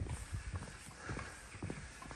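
A horse's hooves clip-clopping along a village high street in the Cotswolds, a steady walking rhythm of hoof strikes passing nearby, with no talk over it.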